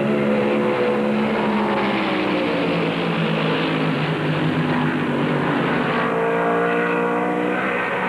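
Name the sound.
NASCAR stock cars racing at Darlington Raceway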